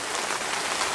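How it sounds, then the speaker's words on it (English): Steady, dense rain hissing evenly on a surface during a thunderstorm over Birmingham, England, with no other sounds. "I find the rain so relaxing"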